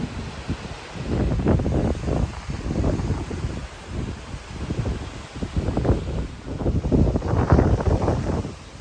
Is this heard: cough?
no